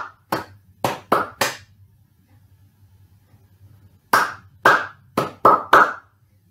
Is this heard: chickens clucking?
no